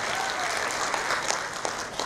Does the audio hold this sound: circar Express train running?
no